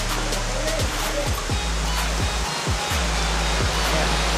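Solkok Falls in Vintar, Ilocos Norte, roars with a loud, continuous rush of falling water that fills the whole clip, with faint low thumps from someone handling the recorder.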